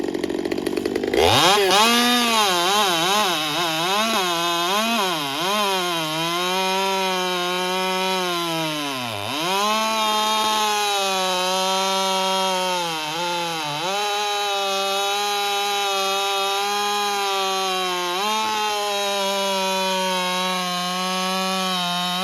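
A chainsaw cuts through wood at full throttle, its engine droning loud and close with a steady pitch that dips and recovers each time the chain bogs in the cut, running continuously for more than twenty seconds.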